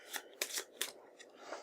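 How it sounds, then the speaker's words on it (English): Board game cards from Galaxy Trucker shuffled by hand, a series of quick riffling, slapping bursts in uneven rhythm, close and fairly quiet, alone. "Shuffle that up."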